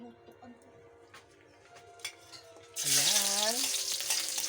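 Onion hits a hot pan and bursts into a loud, bright sizzle partway through, after a quieter stretch with some talk and kitchen clatter.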